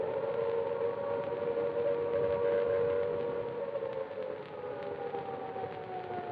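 Over wartime London, an air raid siren wails in one loud, sustained, steady tone that sags slightly toward the end, with a low rumble beneath it.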